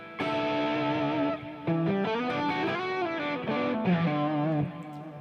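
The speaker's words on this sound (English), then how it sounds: "So I use the rotary, the delay, another delay as well in the middle, and then the hall reverb." Sustained electric guitar notes and chords swirl with a warbling rotary effect, two delays' trailing echoes and a spacious hall reverb wash, played alone without talking.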